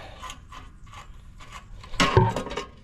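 Socket wrench loosening a part on an old Cub tractor, a string of soft, evenly spaced ratcheting clicks, then a louder metallic clunk as the part gives way.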